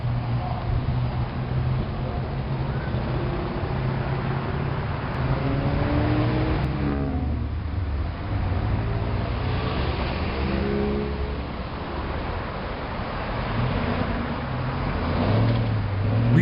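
Car traffic at a city intersection with a traffic light: steady engine rumble with vehicles revving and passing by, continuous and moderately loud throughout.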